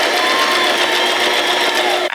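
A home sewing machine stitches rows of a Christmas puff quilt, running in one steady, close, continuous whir with a dense mechanical hum that cuts off abruptly at the very end.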